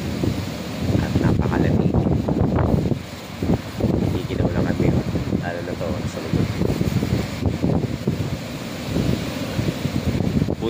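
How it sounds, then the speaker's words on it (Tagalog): Strong wind roars and buffets the microphone at a camping spot in Quezon, a constant rushing gust that swells and dips while people talk over it. "Sobrang lakas ng hangin dito."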